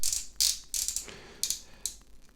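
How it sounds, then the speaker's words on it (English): Ratchet joints on an Optimus Prime Missing Link C-02 transforming robot toy click sharply, about five close, irregular clicks heard alone at close range. "It's a much more solid and stable design with these ratchet joints."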